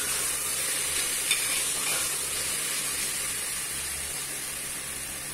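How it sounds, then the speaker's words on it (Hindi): Vegetables with green chilli stir-fry over a medium flame for a cooker veg pulao, producing a continuous, even, moderately loud hiss and sizzle with a faint low rumble beneath. "चला चला कर भूनें अच्छे से।"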